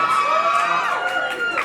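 A theatre audience at a Broadway show's final curtain call cheers and whoops loudly in a dense continuous burst, with scattered shouts over the crowd noise.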